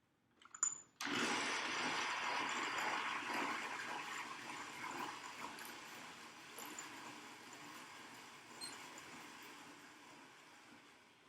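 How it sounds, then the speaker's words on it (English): Burr grinder grinding coffee beans just before brewing, starting after a brief click and running as a steady whirring grind for about ten seconds, close and fairly quiet, no speech. "Ideally, you grind it just before you make the cup of coffee, as we are doing here."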